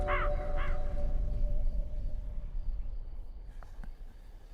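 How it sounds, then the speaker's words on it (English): Two quick harsh caws from a crow open the scene in the video game The Last Vigil, followed by quiet ambient insect-like hum and faint distant knocks. "The crow is not what I'm concerned about."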